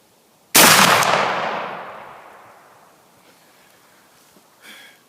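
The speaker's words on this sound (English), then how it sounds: "And shot number 3 is away." A Thompson Center Hawken rifle fires a single loud, sharp shot at a 100-yard range, followed by a long rolling echo that slowly fades. A faint small knock comes near the end.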